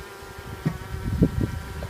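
Honeybee worker bees buzzing around a hive and queen, a low steady drone with a few louder close passes, no talk.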